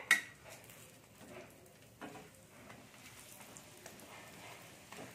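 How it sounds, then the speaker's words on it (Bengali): Raw papaya paratha frying in a pan over low heat, a soft quiet sizzle broken by a few light clacks of a spatula pressing and touching the pan, close and without talk. "আর এটা একটু হালকা টিপে টিপে ভাজছি"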